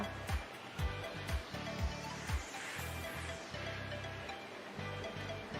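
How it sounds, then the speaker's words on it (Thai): Distilled water poured into a Yuwell 402AI ultrasonic nebulizer makes a continuous splashing trickle, with soft low thumps and knocks of handling the device throughout. "เริ่มจากเทน้ำกลั่นลงในเครื่อง ปริมาณกึ่งกลาง"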